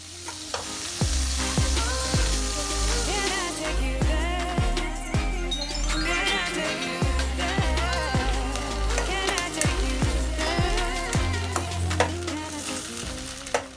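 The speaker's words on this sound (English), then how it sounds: "in the same oil, fry some coconut chunks" Coconut chunks frying in oil for a Kerala-style prawn roast, with a steady sizzle throughout and repeated rhythmic stirring strokes, while music plays loudly over it.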